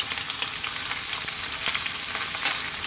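Onion and garlic fry in a pan over high heat for eggplant in spicy tomato sauce, giving a loud, close, continuous sizzle with crackling spits and the scrape of stirring throughout.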